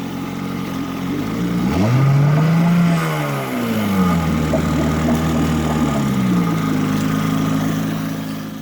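A small outboard boat motor runs steadily at close range, its pitch rising and falling as it revs up and settles back toward idle.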